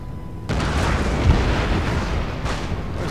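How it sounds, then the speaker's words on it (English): Norwegian artillery firing in the video game Empire Total War, a sudden heavy boom followed by a continuous low rumbling roar that stays loud and dense. "there comes the Norwegian artillery"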